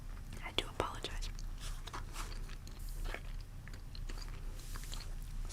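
Big League Chew bubble gum is chewed close to the microphone, giving soft, wet, sticky smacks and occasional crunchy bites over a quiet background hiss.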